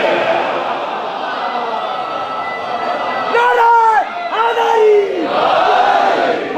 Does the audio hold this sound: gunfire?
no